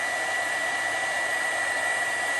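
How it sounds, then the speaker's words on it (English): A heat gun blows steadily while melting embossing powder on handmade paper beads, a loud, unbroken whirring hiss of fan and hot air, close up and alone. "take it back to the heat gun"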